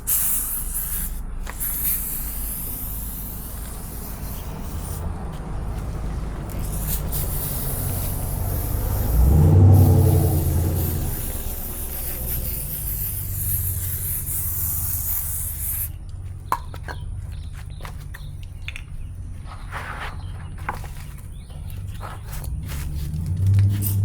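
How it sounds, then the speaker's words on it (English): Degreaser sprayed onto a new DID motorcycle chain off a Kawasaki Versys 650, a long steady hiss at close range, swelling briefly midway, with some rubbing and handling noises toward the end. "got this chain out, hit it with degreaser"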